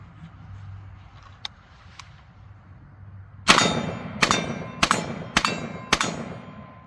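Rifle rounds from an MK-47 and a WASR-10 AKM strike steel targets, giving six sharp ringing clangs in quick succession after a few fainter distant pings, each followed by a short metallic ring.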